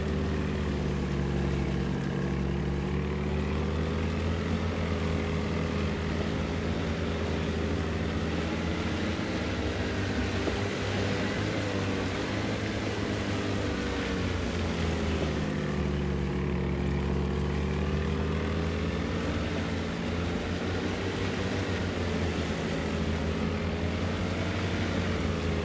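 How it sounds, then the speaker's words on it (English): Steady drone of a boat engine in DayZ, near and continuous, with a low throbbing hum and gently wavering pitch that rises and falls as the throttle shifts. "I feel like I was getting kind of a double sound feedback from the boat"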